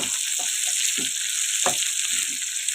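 Dried red chillies frying in oil for a ginger chutney, a steady bright sizzle with soft stirring scrapes at intervals, close and alone.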